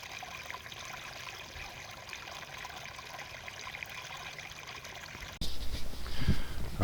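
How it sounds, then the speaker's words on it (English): Water trickles steadily from the overflow shared by two farm ponds in the country, a soft continuous outdoor wash that turns louder and rougher near the end. "here's the overflow for both of the ponds here"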